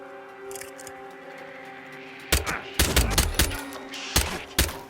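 Gunfire in the Hitman 2 game: after a quiet hum with a musical drone, a sharp volley of loud, close shots cracks out in quick bursts, with a couple more spaced shots at the end.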